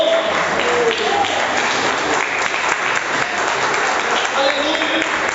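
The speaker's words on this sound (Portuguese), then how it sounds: "Aplaudido seja o nome do Senhor." A church congregation applauds steadily for the whole stretch, a dense, even wash of clapping that fills the room, with a voice faintly carrying over it.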